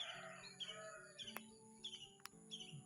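Several birds chirp and tweet in short bursts, with a rooster-like call among them, moderately close over quiet background with a couple of sharp clicks.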